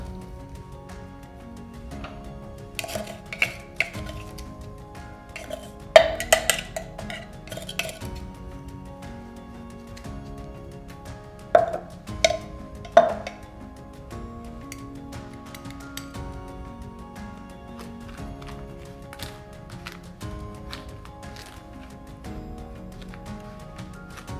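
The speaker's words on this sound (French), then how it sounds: "je vais maintenant tout simplement mélanger les deux poudres." A utensil stirs two dry powders together in a bowl for shortbread, producing scattered light clinks and taps against the bowl in irregular bursts over a quiet background.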